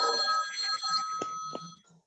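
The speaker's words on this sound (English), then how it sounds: "Whose phone is that?" A phone rings with a bright electronic ringtone during a math tutoring session, a couple of repeated melodic bursts close by that fade out at the end.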